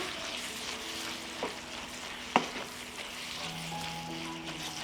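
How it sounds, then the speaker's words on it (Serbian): Fried meat and chopped bacon sizzle steadily in a pan, with a soft scrape and one sharp clack of the spoon as they are stirred, heard fairly faintly. "U proprženo meso dodat ću seckanu slaninu. Promešat ću"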